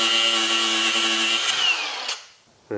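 Power drill whining steadily close up on old, stuck Phillips screws holding a shield on a rusty Ferrari, then winding down and stopping, followed by a short burst as it starts again.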